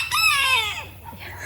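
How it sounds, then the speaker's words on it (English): A rooster crows once, loud and close, its call rising and then trailing off, with no other voices around. "loud rooster"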